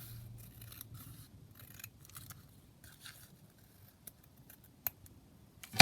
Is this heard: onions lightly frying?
no